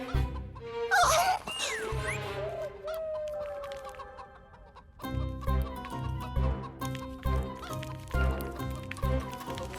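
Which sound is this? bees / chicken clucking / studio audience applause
chicken clucking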